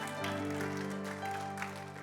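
A church congregation applauds during a Christian community service, brief continuous clapping over a held, droning musical accompaniment.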